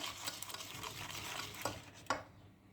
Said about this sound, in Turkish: 1 yumurtanın sarısı, limon kabuğu rendesi, karıştırıyoruz.